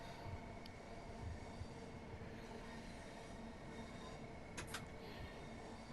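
A Class 465 electric train in Train Sim World 3 runs steadily between Dartford and Faversham, with a continuous rumbling rail drone and a brief higher squeal or hiss partway through, no voices.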